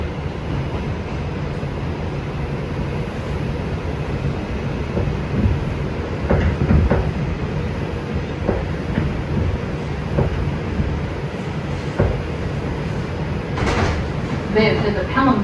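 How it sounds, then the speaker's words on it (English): An R142 New York subway car on the 6 local runs steadily toward Pelham Bay Park with a continuous rumbling roar and scattered metallic clanks and rattles. A voice can be heard over the train noise. "This is a Pelham Bay Park bound 6 local train."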